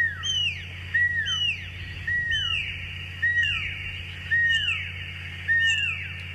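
A recording of pearl-spotted owlets is played outdoors on a safari drive, their piercing whistled notes sweeping down in paired bursts about once a second over a constant low vehicle hum.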